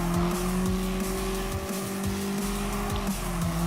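Racing car engine in Gran Turismo Sport, a first-generation Mazda MX-5 30th Anniversary in a custom race, droning at steady high revs with brief gear-shift dips, close and loud throughout.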